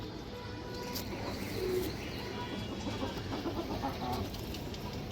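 Pet pigeons in a fancier's collection coo steadily, a soft continuous burble of several birds close by, with no one talking.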